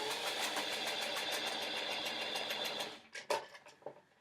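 A sewing machine runs a straight simple stitch along a dress seam, a steady fast mechanical whir for about three seconds before stopping, followed by a few sharp clicks and handling knocks.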